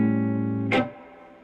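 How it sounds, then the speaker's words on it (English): An electric guitar through tube-driven amps with reverb sounds a sustained, ringing chord, then a short bright burst cuts it off and leaves a fading reverb tail. "you can hear I've got some reverb on these amps"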